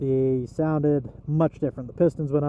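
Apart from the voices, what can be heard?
No everyday noise stands out behind the speech.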